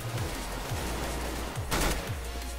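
Rapid gunfire in a CS:GO deathmatch, several quick bursts of shots spread across under three seconds, fairly close and punchy, with a denser volley near the middle, no talk.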